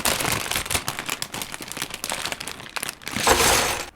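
Plastic pieces from an OYO Sports NHL hockey building set pour out of a crinkling plastic bag, a dense, continuous rattle and rustle that swells louder near the end.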